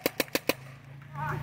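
Four rapid gunshots crack out in a quick evenly spaced burst from a trigger-happy shooter, close and sharp, followed by a brief pause and a voice at the end.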